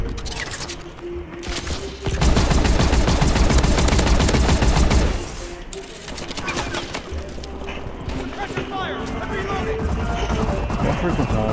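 Rapid automatic bursts from the Unending gun in Call of Duty: Advanced Warfare, a dense fast rattle of shots for about three seconds followed by lighter clicks and game noise, with a voice talking over it.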